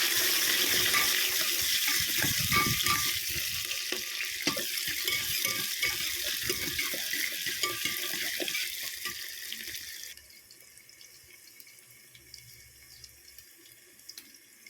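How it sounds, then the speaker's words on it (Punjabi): Onions, ginger and garlic sizzle in hot oil with cumin, a loud, dense crackling hiss stirred with scraping sounds, then abruptly dropping to a quieter, softer sizzle for the final few seconds. "ਫਿਰ ਅਸੀਂ ਇਹਦੇ ਵਿੱਚ ਪਿਆਜ਼ ਪਾਉਣੇ ਨੇ ਪਿਆਜ਼ ਤੇ ਅਦਰਕ ਤੇ ਲਸਣ ਨਾਲ ਹੀ ਪਾ ਲੈਣਾ"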